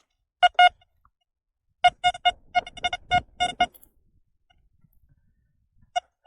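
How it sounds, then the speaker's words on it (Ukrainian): An XP Deus 2 metal detector gives a series of sharp electronic beeps, first a few isolated tones, then a quick cluster, then one more beep after a silence. "то він чітко ловить його так зразу пі-пі-пі-пі."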